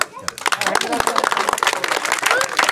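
A village crowd at a sarpanch interview breaks into dense, lively clapping nearby, with voices talking through the applause.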